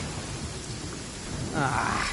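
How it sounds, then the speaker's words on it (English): Rain and a rumbling thunderstorm during a lightning storm in the video game Genshin Impact, a steady wash of rain with a low roll of thunder that swells louder near the end. "Lightning storm!"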